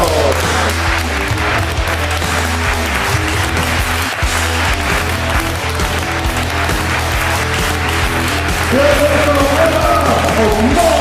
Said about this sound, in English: please also a big applause for this fucking strong man